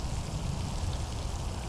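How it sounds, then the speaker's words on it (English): Light, misty rain falling outdoors on a chilly day by the water, a steady, even hiss of drizzle with no distinct drops and no voices. "It was raining, a little misty, but it didn't stop since I came out"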